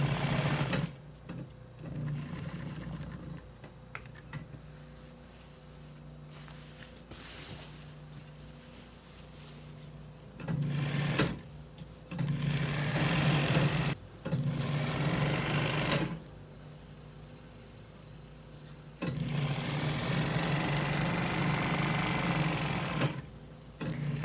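A sewing machine runs in several long bursts, stitching the side and bottom seams of a fabric dining chair slipcover at a half-inch allowance, with quiet pauses between runs and no talking.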